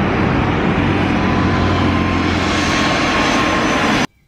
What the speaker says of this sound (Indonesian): Pesawat terbang.